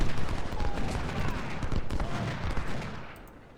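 Gunfire and artillery in the Civil War strategy game Ultimate General: Civil War, a dense, rumbling mass of overlapping shots and booms that fades toward the end.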